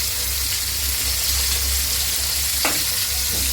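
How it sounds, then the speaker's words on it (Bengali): Spice paste of turmeric, chili, salt, ginger and garlic with a splash of water sizzles and fries steadily in a pan, a continuous close crackle with a brief stir near the end. "এখানে আমি মশলাটা কষিয়ে নিব।"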